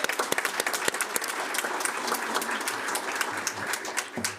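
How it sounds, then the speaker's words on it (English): An audience at a Board of Education business meeting claps in a hearty round of applause for social workers, a dense, steady patter of many hands sustained throughout at moderate distance. "please encourage our social workers by giving them a hearty round of applause"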